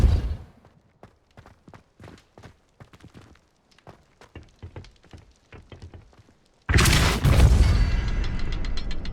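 The Depulso spell is cast in the video game Hogwarts Legacy. A run of light, uneven tapping steps is followed by a sudden loud, rushing blast that carries on to the end.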